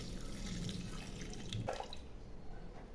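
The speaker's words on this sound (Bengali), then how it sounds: "এখন আমি এর মধ্যে হাফ মগ জল দিয়ে দিচ্ছি" Half a mug of water poured into a cooking pot of split chana dal with garlic, green chillies and bay leaves, a short close splashing trickle that tapers off quickly.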